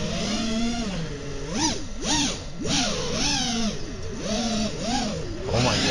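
FPV drone motors hovering just after power-up on Betaflight 4.3: a loud, close electric whine whose pitch keeps swooping up and down as the throttle adjusts, with no talking.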